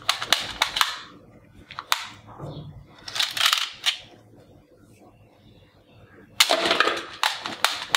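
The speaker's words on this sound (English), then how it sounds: "AK-47 toy gun. Green, orange. This is an assault rifle." Toy AK-47 assault rifle in green and orange firing sharp, snappy cap-gun-like bursts in several clusters with quiet gaps between, heard up close.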